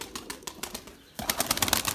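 A female Erzurum white pigeon with yellow beaded eyes, weak and egg-bound, flaps its wings in repeated bursts trying to take off, the fluttering growing louder and busier toward the end, close by.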